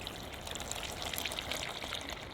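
Warm homemade natural soap liquid pours in a soft, steady trickle for a couple of seconds, faint and continuous with no voices.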